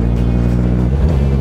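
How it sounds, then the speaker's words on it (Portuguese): A car descends a steep road toward a motorcycle, its steady engine drone loud and continuous with a slight swell partway through, no voices over it. "Só que aí tá descendo um carro, entendeu?"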